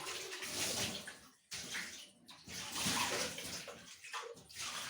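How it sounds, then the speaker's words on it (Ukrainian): Water sloshes and splashes inside a plastic filter housing as it is rinsed out during a home water-filter change, a close, uneven swishing with brief pauses between pours and shakes. "Виливаємо воду сюди, полоскаємо колбу нашою водою."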